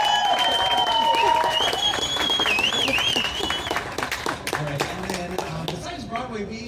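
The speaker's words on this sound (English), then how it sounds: "So I might want one more round of applause for our students." An audience applauds middle school band students from Redwood Middle School at an Easter morning performance at the Disneyland Resort, with steady clapping that starts loud and then thins out as a voice talks over it.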